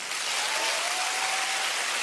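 An audience at a comedy show applauds in a dense, even wash of clapping that holds steady throughout.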